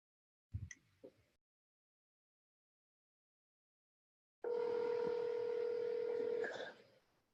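A handset dials out to a home phone: a few short bumps first, then a long, loud, steady dual-pitched tone that holds for about two seconds before it cuts off.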